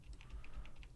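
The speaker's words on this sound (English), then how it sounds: "I'm just having a tough time typing today." Keys on a computer keyboard click in a quick, uneven run of about six taps, close and soft over a low background hum.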